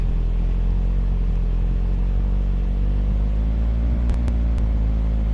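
A vehicle engine in the game Creative Destruction drones with a steady, loud, low rumble and no change in pitch, joined by a few brief clicks near the end and no speech.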